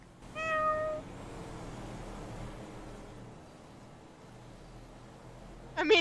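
A cat in a video game meows once clearly near the start, then a faint hum runs underneath before another short meow at the very end.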